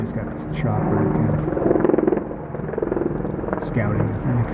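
Helicopter flying over a mountainside wildfire area near Estes Park, Colorado, its steady rotor chop pulsing through a continuous rumble, with people talking over it.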